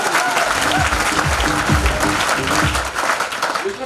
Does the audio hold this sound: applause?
yes